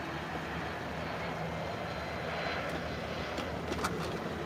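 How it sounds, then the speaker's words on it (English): An airplane flies near an airport, its engine roar a faint, broad, steady wash that continues throughout. "That's a plane, sort of very close to the airport."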